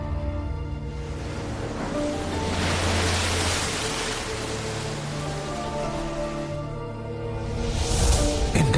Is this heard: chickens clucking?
no